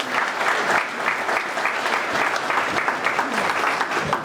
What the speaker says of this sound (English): Would y'all please give them another round of applause?